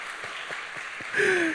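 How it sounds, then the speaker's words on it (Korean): A church youth congregation claps during a Sunday worship service, a soft, scattered patter of hands that is joined by a louder tonal sound near the end. "박수 한번 보내주시죠"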